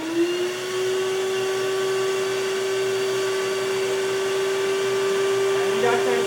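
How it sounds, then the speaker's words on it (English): A vacuum cleaner with its hose on the exhaust side blows air to spin a small generator rotor, giving a steady, loud motor whine that holds a constant pitch throughout after a brief spin-up at the start. "we use this vacuum cleaner, and you guys probably know vacuum sucks"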